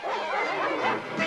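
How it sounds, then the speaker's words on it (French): Cartoon dogs let loose by riders give a continuous, excited chorus of barks, yips and whimpers, loud and close for a brief stretch. "Écoute, ils ont lâché les chiens."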